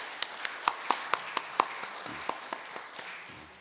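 A few scattered hand claps in a church during a Sunday service welcome, about a dozen distinct sharp claps spaced roughly evenly and then thinning out, fairly faint and without talking.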